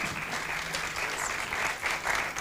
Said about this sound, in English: you need to keep clapping until she sits down in her seat